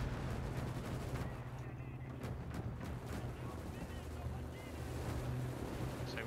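In the World War II video game Gates of Hell, an armored car's rapid gunfire bursts crackle over a constant low mechanical drone, with sharp cracks scattered through the battle noise.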